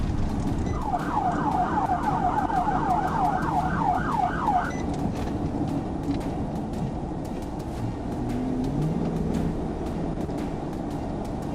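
A police car siren wails in a rapid rising-and-falling yelp for a few seconds over steady road rumble during a highway chase, then fades, leaving traffic noise.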